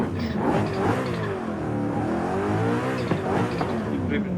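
BMW M3 GTR race car in Forza Horizon 5 with a steady, loud engine and exhaust drone that rises and falls through the revs, continuous throughout.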